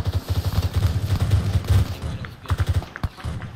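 Gunfire in the military shooter Arma 3 during a co-op firefight: dense, overlapping bursts of rapid shots roll on continuously, loud and close, then thin out into a few scattered volleys toward the end.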